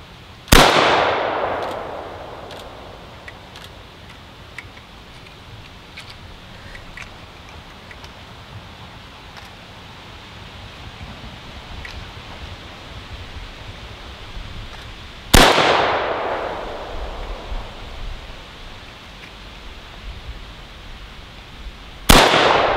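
AKM rifle fired at steel targets outdoors, three loud sharp reports spaced far apart, each with a long ringing decay, and faint clicks and handling noise between shots.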